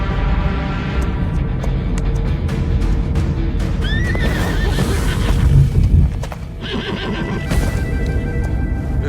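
A horse whinnies loudly in a Hindi film scene, the neigh rising over a dense layer of background score and hoofbeat-like clatter, with a second fainter call later.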